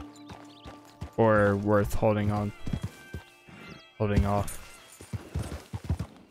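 Horse in the Red Dead Online video game, with soft clopping hoof steps and a couple of loud neighs, while someone talks briefly.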